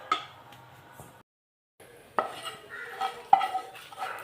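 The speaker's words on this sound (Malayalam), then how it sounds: "കടുക് വറുത്തത് തേങ്ങ എല്ലാം കൂടെ വറുത്തതെല്ലാം കൂടെ ഇതിലോട്ട് മാറ്റുവാണ്." Fried mustard seeds and coconut are tipped from a pan into a Kerala-style mashed curry of beans, raw banana and pumpkin. Metal scrapes and clinks come in short bursts, with a brief silent gap before more clattering taps near the end.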